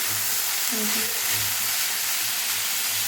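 Potatoes frying in a pan give a loud, steady hiss and sizzle heard up close over a short stretch, with a low hum underneath.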